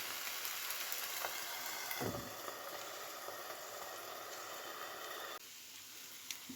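Food frying under a lid in a covered pan, a soft, muffled, steady hiss and faint crackle, with a brief low thump early on and a slight drop in level near the end, no talking.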